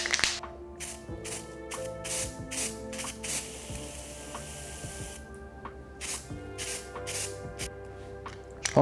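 Cocoa butter sprayed from an aerosol can onto a hazelnut entremets cake: a series of short hissing spray bursts, separated by brief pauses, close and moderately loud.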